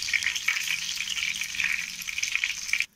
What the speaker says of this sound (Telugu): దీన్ని లో ఫ్లేమ్ పెట్టుకొని దీన్ని అన్ని ఫ్రై చేసుకోండి